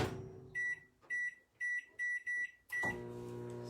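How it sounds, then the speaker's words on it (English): A microwave oven cooking a cake gives five short, bright beeps in a quick, even sequence, then settles into a low, steady running hum. "So there's the cake in the microwave."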